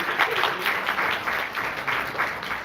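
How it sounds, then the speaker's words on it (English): An audience at an achievers' meet applauds, a loud, close, continuous clapping with slightly pulsing intensity throughout. "A huge round of applause for Varun."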